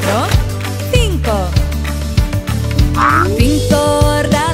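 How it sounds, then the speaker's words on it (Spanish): Frog croaks sound in a children's song, repeating rhythmically over bright, loud music with sung melody throughout. "Cinco ranas manchadas en un tronco sentadas."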